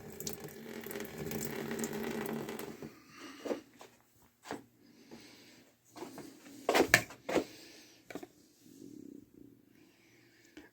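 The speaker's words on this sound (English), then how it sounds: "now we'll take one out of our tap, which is the water that's been treated by our softener" Softened water runs from a kitchen tap into a glass for about three seconds, followed by scattered clinks, splashes and handling sounds in a quiet room.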